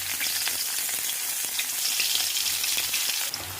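Onion and green chillies sizzle steadily in hot oil in a pan, a dense continuous frying crackle with faint stirring clicks, close and unbroken with no talk.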